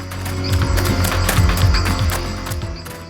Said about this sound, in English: Next, he met a horse.